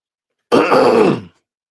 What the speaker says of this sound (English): I apologize for clearing my throat